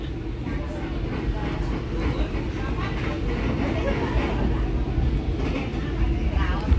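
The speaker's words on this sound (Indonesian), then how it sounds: "Kereta api Cikuray diberangkatkan dari stasiun" The Cikuray passenger train pulls out of Nagrek station with a steady low rumble of wheels and carriages, and voices murmur faintly in the background.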